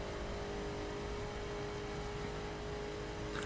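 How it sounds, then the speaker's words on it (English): Koenigsegg Agera R engine in the racing game The Crew, a steady, sustained high-revving drone held at even loudness throughout with no pauses, heard alone. "You have to let me know if the audio for the engine noises are too loud or too quiet"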